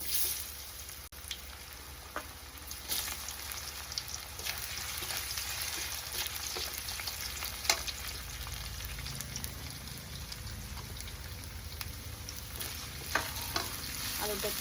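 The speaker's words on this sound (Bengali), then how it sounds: "ভালো করে আগে ভেজে নিই দেখো আলুটা কিন্তু ভালো করে একটু ভেজে নিয়েছি" Potatoes fry in oil with whole cumin, a continuous close sizzle broken by scattered clicks and scrapes of stirring, with no one talking.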